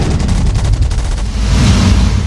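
Gunfire in a dubbed anime battle as a giant appears, a dense, loud, continuous barrage of rapid shots with rumbling booms throughout, no voices.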